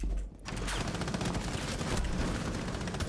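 Rapid gunfire from a first-person shooter game, with shots punching through a concrete wall: after a brief quiet gap, a dense, continuous burst of loud, close automatic fire runs steadily to the end with no talk.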